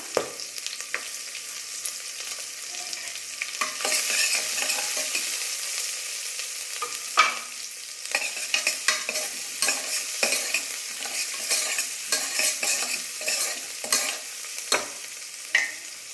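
Chopped garlic and onion fry in a pressure cooker, a steady close broadband sizzle broken by repeated sharp scraping stirs and clinks, with no talking.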